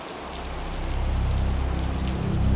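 Steady rain patters on a surface during a wet day of fishing, a dense continuous hiss that swells slightly louder toward the end, with no voices.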